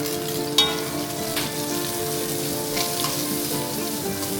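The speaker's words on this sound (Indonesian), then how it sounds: "Nah, ini kita masukin bawangnya." Onions sizzle steadily in a hot pan for a Dutch-style sweet-sour chicken dish, a loud, even frying hiss with a couple of small pops near the start.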